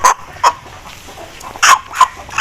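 Aseel hen giving a series of short, sharp clucks in irregular bursts, fairly close and moderately loud, with quiet background between calls.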